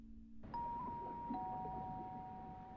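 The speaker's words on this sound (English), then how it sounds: "Who's ringing the doorbell?" Doorbell chimes in the indie horror game Watershed, two clear electronic ding tones ringing out one after the other and sustaining over a low ambient hum, with no talking.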